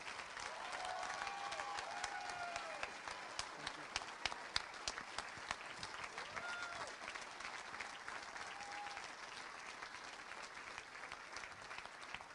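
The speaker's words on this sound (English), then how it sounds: "Let's give all these students one more round of applause." Audience at a school dinner auction applauding students, sustained crowd clapping with a few scattered voices and whoops, moderately distant and fairly faint.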